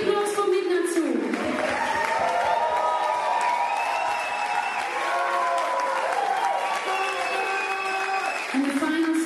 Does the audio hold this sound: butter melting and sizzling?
no